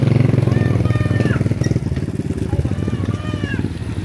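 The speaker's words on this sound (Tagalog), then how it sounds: "There's a bike." A motorcycle engine rumbles loud and close throughout, a deep steady throbbing with no clear pass. People talk over it.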